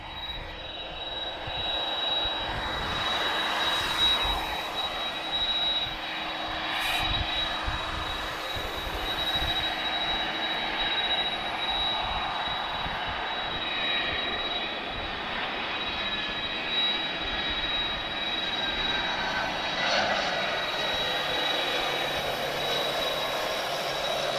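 A TAP Air Portugal Airbus A320, flight TP1929 from Porto, arrives at Lisbon Airport with a steady, fairly loud jet engine roar that holds for the whole stretch. Faint higher whines drift above the broad rumble. No one speaks.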